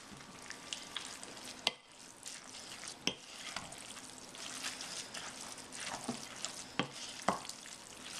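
Quinoa stuffed-pepper filling with canned diced tomatoes being stirred in a pan, soft sizzling with repeated sharp spoon scrapes and clacks at irregular intervals, fairly quiet.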